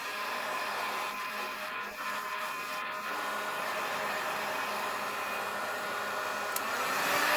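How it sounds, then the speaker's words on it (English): Hair dryer blowing warm air over resin in a mold for a sea-shaped design, a continuous close whirring hiss holding steady and rising slightly near the end. "Turn on the hairdryer."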